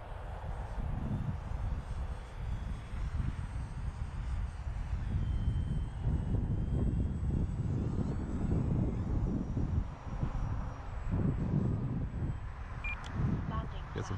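An FMS PA-18 radio-controlled plane makes an inverted pass in gusty wind, its engine a steady drone under heavy buffeting wind noise on the microphone, with a faint beep near the end.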